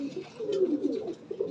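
Pigeons cooing close by, a soft low rolling coo sustained through the short stretch with slight warbling rises, fairly quiet and without talk.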